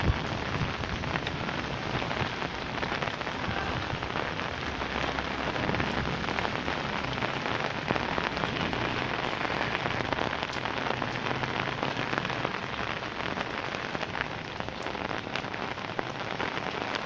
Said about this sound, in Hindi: कराची के मुख्तलिफ इलाकों में मूसलाधार तूफ़ानी बारिश का आगाज़ हो चुका